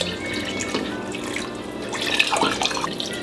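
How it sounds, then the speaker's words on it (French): Cold water runs steadily from a tap into a pot for pot-au-feu, a continuous close splashing and gurgling pour with no talk. "Donc, eau froide, rajoute."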